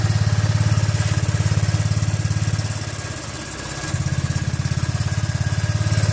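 A Yamaha C3 scooter engine fitted with a Magic Eco aftermarket exhaust idles close by with a steady, throbbing putter that dips slightly for a moment before settling back into its even beat, with no talking.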